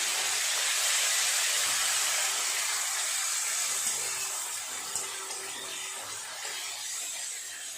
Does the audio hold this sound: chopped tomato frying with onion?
yes